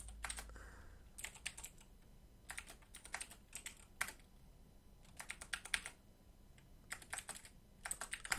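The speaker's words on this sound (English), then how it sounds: "let me type this out first and then I'll explain it." Fingers type on a computer keyboard while code is written, in irregular quick bursts of soft clicking keystrokes with short pauses, close and quiet, no talking.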